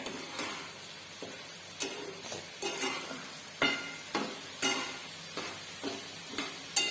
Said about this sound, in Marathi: आपण वांगी घालून घेऊया चांगले लागेपर्यंत वरून मिक्स करून घेऊया